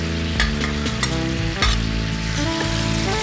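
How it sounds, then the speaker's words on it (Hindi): Peeled, deveined shrimps drop into a hot frying pan, bursting into a loud, close sizzle with clattering stirs and scrapes against the pan, no talking heard. "अब हम इसमें श्रिम्प्स डालेंगे।"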